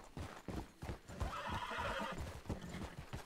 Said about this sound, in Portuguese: Só ouvi cavalos.